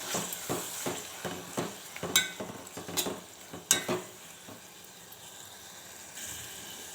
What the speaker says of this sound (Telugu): ఇప్పుడు ఒకసారి కలిపేసుకుందాం.